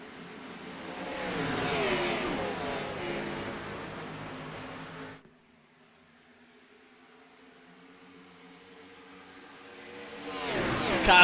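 Race cars in the iRacing simulation at Daytona accelerate with a rising engine whine, which fades to near silence before a second car roars up loudly at the end.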